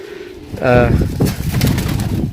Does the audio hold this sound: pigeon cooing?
yes